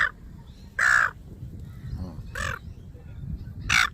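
Loud crow-like caws from noisy evening birds in Australia, three separate bursts spaced about a second and a half apart, standing out clearly over a low rumbling background.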